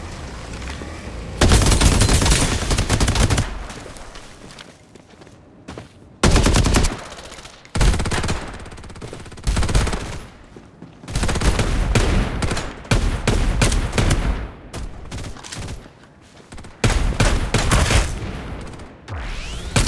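Rapid automatic gunfire from the shooter video game Fairlight, loud bursts of machine-gun fire in repeated volleys separated by short pauses, with game effects and no talk.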